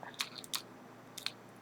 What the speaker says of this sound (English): Then you can use the scissors or you can use a cutter